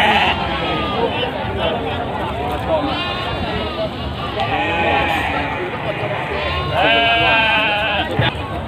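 Goats bleat repeatedly over a busy crowd murmur, with people talking nearby and occasional hoof clatter at the Legi Munjungan livestock market in Trenggalek.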